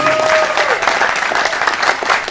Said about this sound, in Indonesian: Ini maksudnya apa tepuk tangan begini?